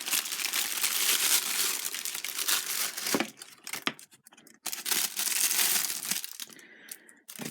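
Plastic bag of action figure accessories crinkling and rustling as it is handled up close, with loud bursts of crumpling broken by brief pauses.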